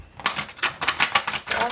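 A tarot card deck being shuffled, with a quick run of crisp, papery riffling bursts that repeat about every quarter second, close and moderately loud, with no talk over it.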